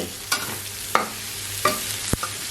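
Pork stir-fried with chili and salt in a hot pan, with sliced spring onions going in, makes a steady sizzle broken by several clanking scrapes of the spatula against the pan.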